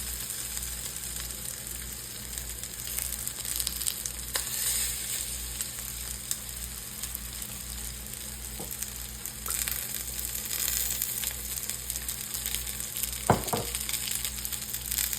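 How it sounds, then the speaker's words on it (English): Small croquette hamburgers fry in a pan with a continuous close sizzle, a low steady hum beneath and a couple of sharp clinks of a utensil near the end, with no talk. "And I'm gonna fry our little hamburgers, croquette hamburgers."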